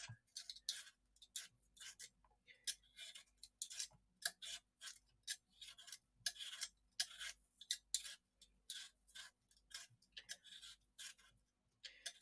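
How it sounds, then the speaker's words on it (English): A potato being peeled for cottage pie, giving a run of quick, dry scraping strokes in an uneven rhythm. Each stroke is short and crisp and sounds close, with brief pauses between strokes and no talking. "So just peel the potato."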